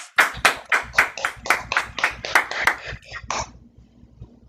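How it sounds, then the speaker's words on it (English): A small group claps at a robotics event, about a dozen distinct rhythmic hand claps that are fairly close and gradually fade out. "Big round of applause"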